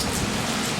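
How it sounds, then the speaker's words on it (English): Heavy rain pours down steadily during a thunderstorm in Malta, a dense, loud wash of drops close by with no pauses and no voices. "The heavens have opened."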